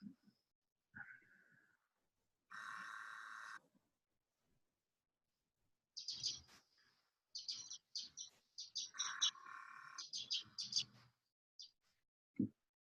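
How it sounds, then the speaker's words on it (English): Birds chirping in short scattered bursts of bright tweets, with gaps of near silence and a few other faint noises between them. "I like hearing birds chirp."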